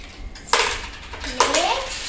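Money drops into a mini ATM piggy bank in two sharp clinks about a second apart, close by, with a voice chattering around them.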